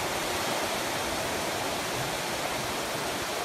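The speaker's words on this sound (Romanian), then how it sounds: "cum iese apa din stâncă la cheile tătarului" Water gushes steadily out of rock in the Cheile Tatarului gorge, a dense, even rushing hiss that holds constant and close throughout, with no voices.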